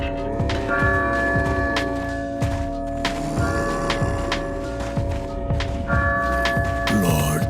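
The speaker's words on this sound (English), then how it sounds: "Survive long enough, and both mobs get distracted by bingo bells." Bingo bells ringing in a Resident Evil game, bright bell tones recurring in steady rhythmic rounds over a busy background of soft thuds and ticking.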